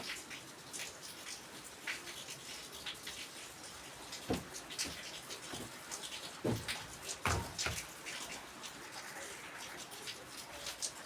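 Heavy rain falls in a steady, dense hiss of drops with scattered louder splashes and thumps, heard alone without talk.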